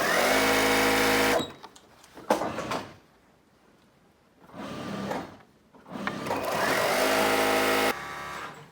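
A sewing machine stitches a face mask seam in several bursts, a steady mechanical whir that starts and stops, with quiet handling clicks and fabric rustle between runs.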